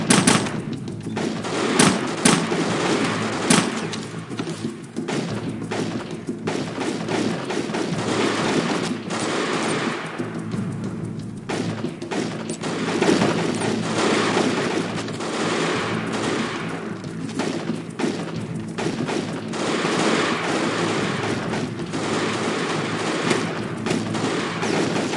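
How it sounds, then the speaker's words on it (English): Gunfire from a fortification in the video game Delta Force: Black Hawk Down: dense, continuous bursts of automatic fire and rapid shots crackle without pause, loud and near, with occasional heavier reports mixed in. "Picking up fire from that fortification!"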